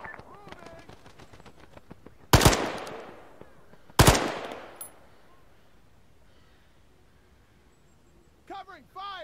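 Machine gun covering fire in a military combat video game, with rapid bursts, two loud close gunshot blasts, then quieter stretches as a voice talks over the action.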